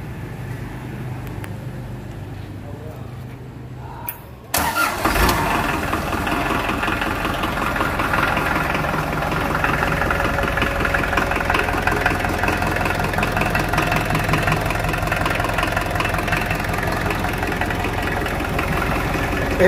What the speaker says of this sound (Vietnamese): Máy nổ rất đầm rất êm luôn.